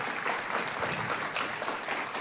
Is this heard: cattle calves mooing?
no